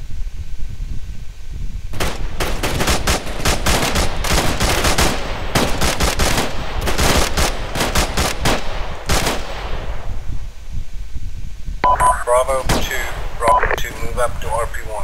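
Gunfire in Arma 3 rattles in rapid, loud bursts of many shots after a short lull, then breaks off, followed by radio-style voice chatter.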